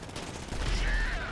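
Gunfire in GTA V during a Drug Wars mission fending off motorcyclists, a dense burst of shots with a rising whine and explosion-like rumble, loud and close, lasting about a second.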